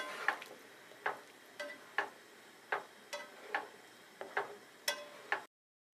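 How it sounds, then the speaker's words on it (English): A spoon stirring chopped rosemary into mashed potatoes, about a dozen soft, regular scraping strokes against the bowl at a steady rhythm, close and quiet, then silence. "Stir everything in."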